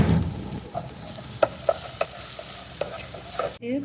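Garlic, shallots and mushrooms stir-fry in a pan at a farm cooking class in Hanoi, with a steady sizzle punctuated by sharp scrapes and clicks of a utensil against the pan, close and clear.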